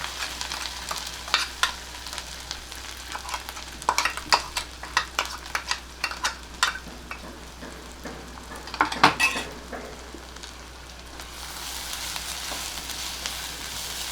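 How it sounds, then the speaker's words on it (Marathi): Ground masala paste with asafoetida and curry leaves fries in a pan over a low flame for an eggplant and potato curry, a steady soft sizzle broken by repeated scraping stirs and clinks, with a bright hiss swelling near the end. "हा छानपैकी परतून घ्यायचा गॅस बारीकच ठेवला मी"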